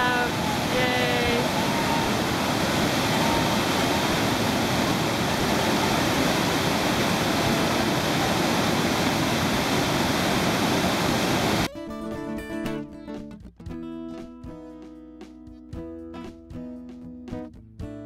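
Rapids on the Chattooga Wild and Scenic River rush in a dense, steady roar for most of the stretch, then give way abruptly to quieter, clipped sounds near the end.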